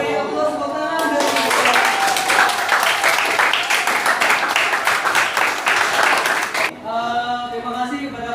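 Classroom of students applauding a presenting group, a loud burst of clapping that rises after a voice, holds for nearly six seconds, then stops as talking resumes.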